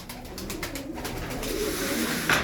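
Pigeons cooing softly nearby, low repeated calls with light rustling, no talk.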